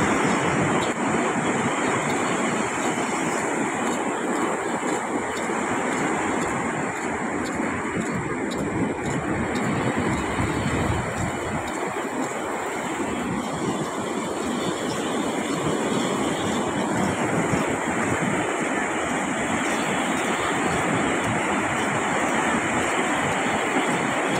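Sea waves on the shore with still-rough surf after a storm has passed near a lifeguard tower, a continuous loud roaring wash of breaking water mixed with wind buffeting the microphone.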